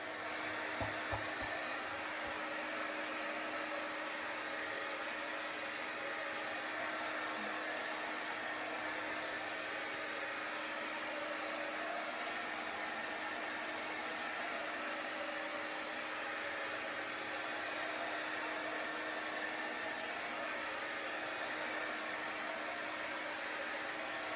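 A blower or hair-dryer-type tool runs steadily to dry damp wood and blow dust off it, a continuous broadband whoosh with a constant hum, close and even for the whole stretch with no talking.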